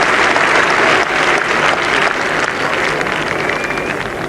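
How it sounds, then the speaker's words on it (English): Cricket Test crowd at an Ashes match applauding Geoffrey Boycott, a broad, steady wash of distant clapping across the ground that carries on throughout without talk. "Touch of relief in the applause there"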